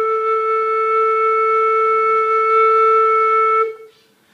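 A single sustained flute note, blown softly down and out across the lip plate, holds steady at close range for over three seconds before stopping cleanly, with a short fade into room quiet.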